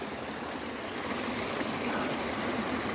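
Small waterfall in Scotland running strongly after heavy morning rain, a constant close rushing wash of water that holds steady throughout with no voices.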